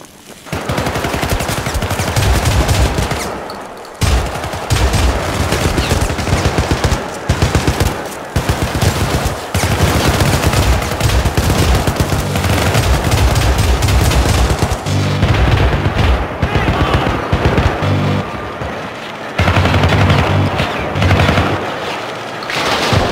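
Sustained rapid turret gunfire in the Syndicate video game, loud dense bursts of machine-gun fire running almost continuously with brief gaps, mixed with occasional heavier booms and battle noise.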